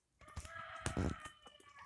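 Chickens cluck and peck close by, eating leftover rice pilaf, with short irregular bursts of clucking and soft pecking sounds over a quiet background.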